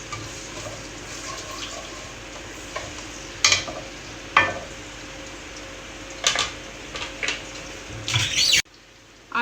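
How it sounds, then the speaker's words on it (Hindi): Ginger garlic paste sautés in oil in a karahi, a continuous sizzle broken by several louder bursts as it is stirred or sputters, ending in a sudden drop. "और इसको हम हल्का सा सौते करेंगे।"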